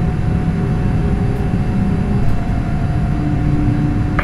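A simulated Boeing 747 airliner taxis toward the runway, with a steady, loud low engine rumble and a faint high whine throughout.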